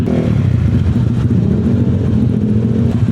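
Motorcycles and cars passing on a road, a steady loud low engine drone with continuous traffic rumble throughout, no distinct single pass-by.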